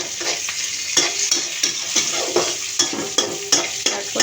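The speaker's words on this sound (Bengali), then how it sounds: "তারপরে সেই শুটকিটাকে ভালো করে ভেজে নিতে হবে।" Dried fish (shutki) fries in a pan with a bright, steady sizzle, punctuated by regular sharp clinks and scrapes of a utensil being stirred through it, with no talking.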